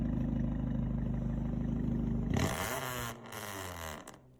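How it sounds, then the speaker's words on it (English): Honda Civic base model fitted with a Rampton performance exhaust, steady engine drone with a raspy exhaust note that shifts into a rising rev before settling down. "Let's hear this bad boy exhaust on this sick ass Civic base model."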